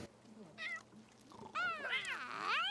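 Several cat meows in The Sims 3 video game, high and wavering, come one after another, with the last drawn-out and whiny, moderately close with faint background noise.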